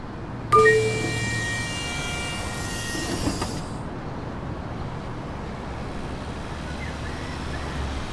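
A tram in the PC game Tram Simulator Urban Transit starts with a sharp onset of bright tonal chimes and mechanical whine, then settles into a steady low rumble of driving on rails that continues throughout.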